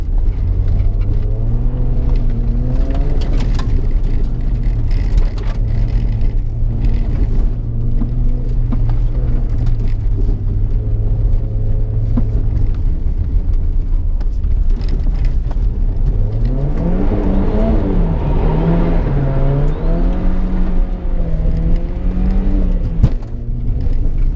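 A Subaru Loyale rally car's engine holds a steady droning note in second gear at a rallycross event, then revs up and down, loud and close from inside the car, with no talking.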